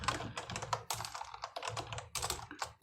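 Rapid, continuous typing on a computer keyboard while coding, dense clattering keystrokes up close with brief gaps, no talk.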